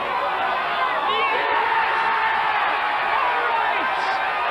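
A large crowd cheers and roars at a 9-ball pool match between Efren Reyes and Jimmy White, a loud continuous swell with whoops rising above it and a voice speaking over the noise.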